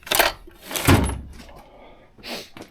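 A drawer slides and knocks shut in a workshop: a few short wooden clunks and scrapes heard close over a couple of seconds.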